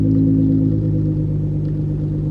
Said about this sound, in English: A really loud car is next to me